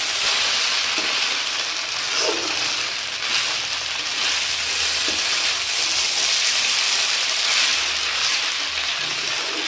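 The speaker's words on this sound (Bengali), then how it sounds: "ভালো করে ভেজে নিতে হবে।" Chowmein noodles fry in a pan with a continuous dense sizzle and faint occasional stirring scrapes, close and steady for the whole stretch with no voices.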